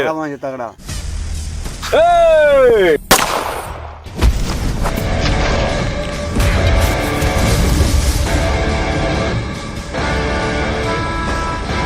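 A gunshot sound effect from a homemade short film: after a rising whooshing sweep, a sharp bang lands, followed by a sustained rumbling, echoing effects bed under loud playback, with people talking around it.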